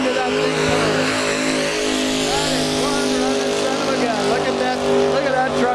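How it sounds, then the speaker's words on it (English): At a truck and tractor pull, a pulling truck's engine roars continuously and loudly under a dense, wavering mechanical drone, while a commentator talks over the noise. "Look at that truck pull."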